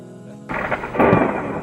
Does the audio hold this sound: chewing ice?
no